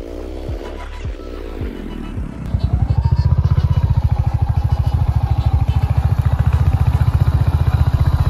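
A motorcycle engine starts up and runs with a rapid, rhythmic putter, loud and close, settling into a steady ride toward the Gadrasini hills in Belpahari.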